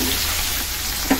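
Onions dropped into hot cooking oil give a loud, steady close-up sizzle and crackle that runs unbroken through a very short moment.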